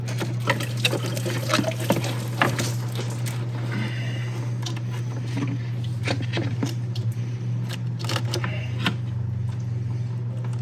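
Coolant drains from a Jeep radiator into a catch pan during a thermostat replacement, a steady liquid trickle and splash running the whole time over a constant low hum, with no talking.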